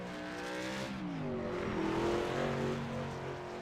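A race car drifts around a dirt oval in the iRacing sim, its engine note rising and falling in layered harmonic whines that sweep and bend as the car slides, steady and mid-level with no voices.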